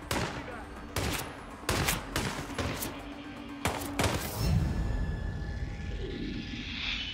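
Gunfire in the video game Hitman: several sharp, loud bursts of shots close together early on, then a few more cracks, followed by a rumbling crash and quieter aftermath.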